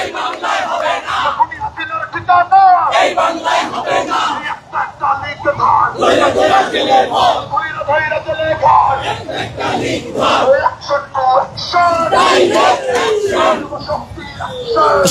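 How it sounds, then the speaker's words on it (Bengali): A crowd at a protest march in Dhaka, Bangladesh, chanting slogans in loud, rhythmic call-and-response bursts, many voices shouting together up close and rising and falling without stopping. "বিভিন্ন স্লোগান দিচ্ছেন জাতীয় যুব শক্তির"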